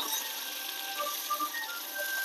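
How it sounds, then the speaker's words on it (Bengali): Paneer frying lightly in a pan on a low gas flame, giving a soft, steady sizzle with faint crackles throughout and no other sounds. "পনিরটা বেশি ভাজবো না, কারণ দুধ পনির করতে গেলে পনিরটা অল্প ভাজতে হবে।"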